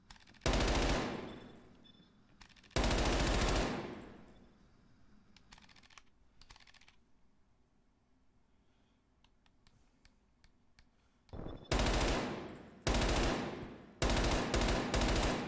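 Call of Duty Black Ops Cold War gunfire on PS5, sharp loud automatic bursts separated by quiet gaps, then several rapid short volleys near the end, with no talking.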